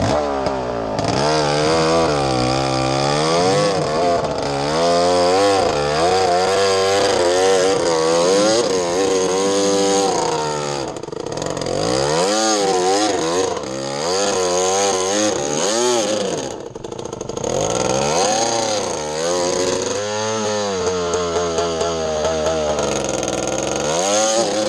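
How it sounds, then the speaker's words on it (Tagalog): Small engine with a bent exhaust, likely a motorcycle, revving continuously and loudly close up, rising and falling with a harsh, rough buzzing tone and little power, with no talking over it. "Pangit naman tunog. Wala na rin power. Benda yung exhaust eh."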